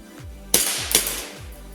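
A Cybergun Colt 1911A1 CO2 airsoft pistol fires two sharp, loud cracks about half a second apart, each with a brief hiss of gas, and softer mechanical clicks come before and after.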